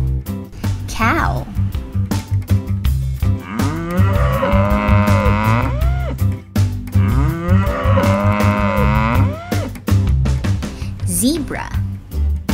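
Loud, drawn-out cow moos repeat over a steady low rhythmic background, with a couple of long lowing calls in succession.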